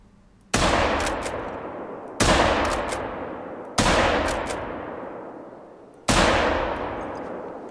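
Four loud rifle shots ring out from a hunting game set on bison, each a sharp crack followed by a long rolling echo that fades slowly, spaced about one and a half seconds apart.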